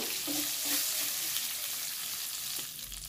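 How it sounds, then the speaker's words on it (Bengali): Torn bay leaves and whole garam masala spices sizzle steadily in hot oil while being stirred, a close, continuous crackling hiss with no talking. "এবার ওই তেলেতে দিয়ে দিলাম দুটো টুকরো করে ছিঁড়ে নেওয়া তেজপাতা, গোটা গরম মশলা। একটু নেড়ে চেড়ে ভেজে নেব।"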